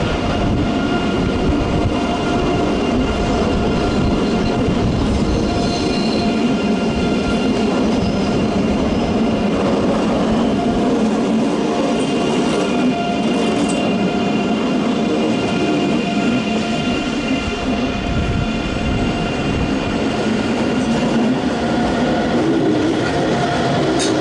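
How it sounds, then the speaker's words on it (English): A Netherlands Spoor ICE train with a red stripe rumbles across the Hohenzollern Bridge in Cologne, a loud, steady roar of wheels and rail noise filling the whole stretch with faint clatter and no talking. "it's a Netherlands Spoor region ICE and not a Deutsche Bahn ICE"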